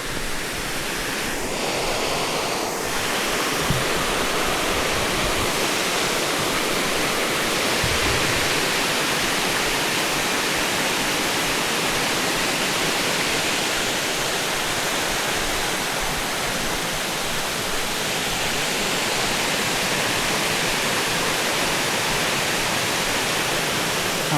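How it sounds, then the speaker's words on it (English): A waterfall in Cuyahoga Valley National Park roars as a steady, dense broadband rush, constant and unbroken for the whole stretch. "this is gonna be our second"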